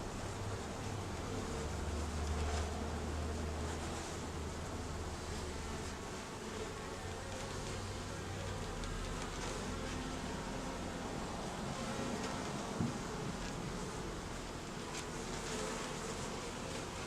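Honeybees drone in an open hive during an inspection in an Alaskan rainforest, a dense, continuous buzzing that stays steady and fairly soft throughout, with no talking.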